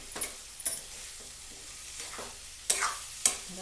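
A tomato and vegetable curry being stirred in a pan, a soft steady sizzle punctuated by several sharp scrapes of the spoon, close and fairly quiet with no talk.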